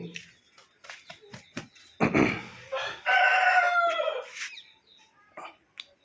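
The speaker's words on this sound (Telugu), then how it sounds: "మనం ఇందాక చూసిన నెమలి ఇది" A peacock calls loudly at close range, with a harsh, drawn-out cry in two bursts amid scattered clicks and small background noises.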